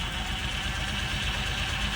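A rusty vehicle at a municipal auction, jump-started and idling, then put in gear to move forward: a steady, close, low engine rumble with an even vibration throughout.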